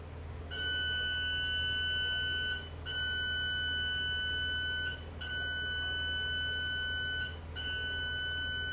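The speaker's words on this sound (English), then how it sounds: "When the timer goes off, the alarm sounds" A ship's bridge navigational watch alarm system (BNWAS) sounds its alarm: four long, loud electronic tones, each lasting about two seconds and separated by short gaps, over a steady low hum.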